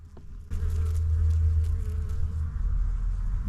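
Steady, dense buzzing of many bees on an aster flower bush nearby, continuous and fairly loud with a low droning hum throughout.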